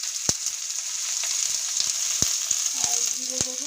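Whole panch phoron spices, fennel-heavy, frying and crackling in hot oil for a Bengali sea fish jhal: a steady bright sizzle with sharp scattered pops and spatters, close up, and no voices.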